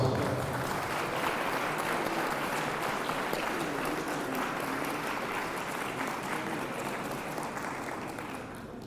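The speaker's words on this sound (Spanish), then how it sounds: "Un aplauso." Sustained audience applause at a conference in Metepec, steady and dense clapping from a large crowd lasting throughout, slowly tapering slightly toward the end with no talk over it.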